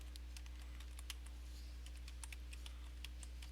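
Faint computer keyboard typing, a light scatter of quiet key clicks over a steady low hum for a few seconds, with no speech.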